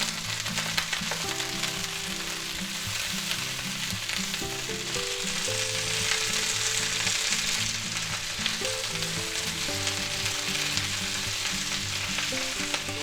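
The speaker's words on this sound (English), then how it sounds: "Okay, let's stir fry them up." Bok choy, bell peppers, onions and celery being stir-fried in oil for chicken chop suey give a steady, close sizzle that runs throughout, with background music underneath.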